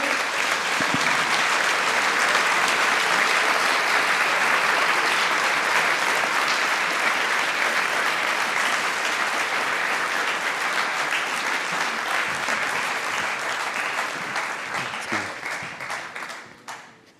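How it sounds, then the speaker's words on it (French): A conference audience at a Vendée Globe sailing talk claps loudly and steadily for about fifteen seconds. The sustained applause fades out at the end. "J'aimerais que tout le monde applaudisse très très fort vos teams respectifs"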